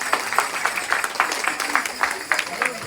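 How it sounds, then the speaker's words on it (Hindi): An audience at a religious katha gathering claps in rhythm, bright regular claps at a brisk even pace, fairly close and loud. "मजाले ताली बजाउनुहोस्"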